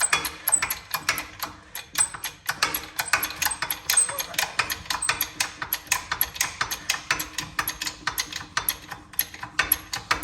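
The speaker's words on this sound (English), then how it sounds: "we're just gonna jack it up, and you'll see it's pushing everything downward" A jack raises the rear suspension of a Toyota 4Runner with repeated ratcheting clicks in a steady pumping rhythm, close and moderately loud, while a person talks over it.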